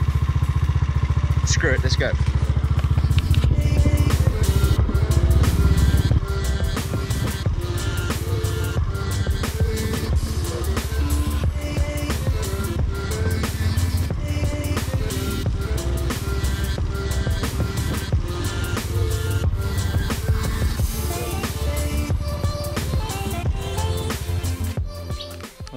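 A dirt motorcycle with no front brake and weak rear brakes rides across farmland near a river, its loud engine droning steadily close by throughout while a rider speaks briefly over it.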